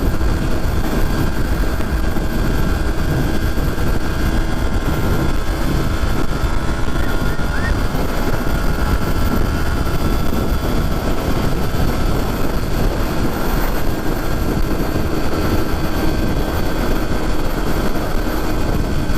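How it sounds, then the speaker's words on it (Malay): Loud, steady wind roar while riding a 2022 Modenas Kawasaki Ninja 250 ABS motorcycle buffets continuously throughout, a dense low rumble with constant rushing noise of riding at speed, no voices. "Angin kuat kan, angin kuat."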